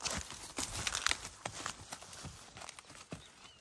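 Mare walking on a cattle ranch, uneven hoofbeats and scuffing steps close by, a moderate irregular clatter with rustling and no clear talk.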